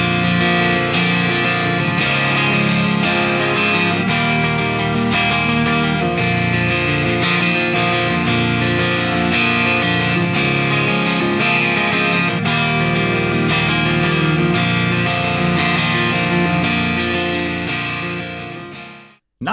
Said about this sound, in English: I really like how that guitar and this amplifier work together for that nice and rich vintage tone